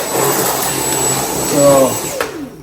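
A Dyson V10 cordless vacuum cleaner runs close by with a loud, steady high-pitched motor whine and airflow roar, its pitch shifting slightly before it starts to wind down.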